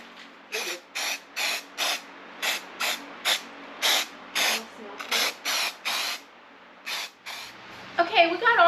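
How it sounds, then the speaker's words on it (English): Spray paint hisses through a stencil, lettering Merry Christmas onto an outdoor Christmas tree collar made from a barrel: about seventeen short, even bursts in a steady rhythm, close and crisp, with a brief rustle at the end. "we went ahead and used the stencil and spray painted Merry Christmas on both sides"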